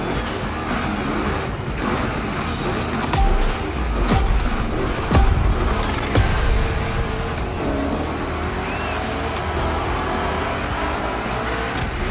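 A Chevy 3100 Big Block engine in The Crew Motorfest roars continuously, its revs rising and falling through turns, with brief tire squeals and heavier surges midway.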